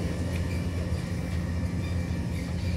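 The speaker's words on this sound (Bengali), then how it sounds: "ট্রেন চলেছে" A train running at high speed near London, heard from inside the carriage as a steady, low rumbling roar with constant track and wind noise and no distinct clacks.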